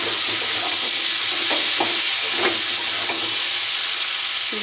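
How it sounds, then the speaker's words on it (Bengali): Small prawns frying in a pan, a loud constant sizzle with a series of stirring scrapes and spatula taps, close up, with no talking. "ভালো করে ভেজে নিচ্ছি।"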